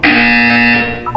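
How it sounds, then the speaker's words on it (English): A game buzzer from Portal 2 sounds one loud, steady, electronic tone for just over a second, then slips into a brief warbling wobble at the end. "When you hear the buzzer, look down at the floor."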